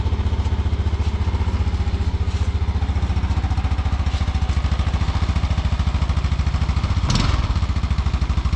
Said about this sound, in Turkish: Kontağımızı açalım bakalım bir kere de ayak marşıyla çalıştıracağım.